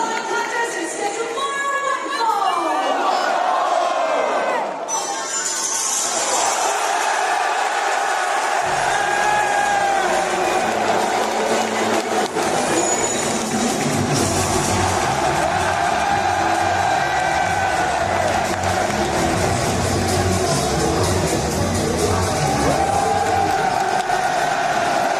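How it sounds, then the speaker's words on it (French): A large arena crowd at a WWE event in Paris cheers and roars for a wrestler's entrance, a dense, loud, sustained wall of whoops and shouts with entrance music underneath, continuous across the whole stretch. "L'arrivée de celui à qui j'ai parlé quelques minutes auparavant, Baron Corbin, sous un torrent d'acclamations qui semblait totalement irréel."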